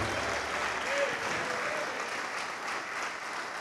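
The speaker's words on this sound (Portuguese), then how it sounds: "Quem ama Deus, dá uma salva de palmas para o Senhor." A church congregation claps for God in steady, moderately faint applause that carries on evenly throughout, with a few voices faintly mixed in.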